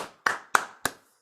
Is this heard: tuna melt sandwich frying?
no